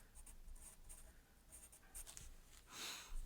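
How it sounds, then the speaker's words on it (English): Regular charcoal pencil scraping over paper in repeated short strokes, close and quiet, with no talk, ending in a longer, louder stroke. "we just have a regular charcoal pencil."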